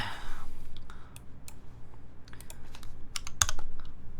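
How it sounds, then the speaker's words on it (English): Typing on a computer keyboard during a stream, a steady run of quick, light key clicks with a few sharper taps, close and fairly clear over faint room noise. "let's try to do this typing thing"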